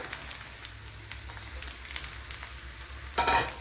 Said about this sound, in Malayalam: ഇവിടെ ഓയിൽ ഒഴിച്ചു കൊടുത്തിട്ടുണ്ട് അതിലേക്ക് കടുക് ഇട്ട് കൊടുത്തിട്ടുണ്ട് അതിലേക്ക് കുറച്ച് പച്ചമുളക് ഇട്ട് കൊടുത്തിട്ടുണ്ട്